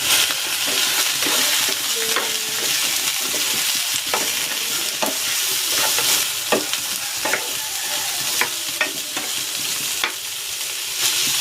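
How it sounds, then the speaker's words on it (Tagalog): Leftover lechon liempo sizzles and fries in a pan with bay leaf and peppercorns, a steady loud crackling hiss broken by scraping stirs, close up and continuous, with no voices. "At ilalagay ko na itong leftover na lechong liempo."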